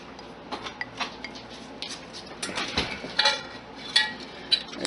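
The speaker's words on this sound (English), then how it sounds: "Mom's getting the cup clean" A cup is cleaned amid dishes, with repeated light clinks and clatters of cups and utensils, close and fairly loud, in irregular bursts without talk.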